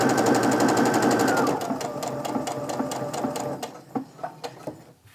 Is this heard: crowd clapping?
no